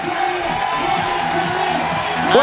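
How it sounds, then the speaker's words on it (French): Spectators at a national athletics meeting in Carquefou cheer, whoop and applaud as they rise for the finish of a race, a loud, dense crowd roar that swells near the end, with some voices mixed in. "Voilà le public qui applaudit, qui se lève. Standing ovation pour le final."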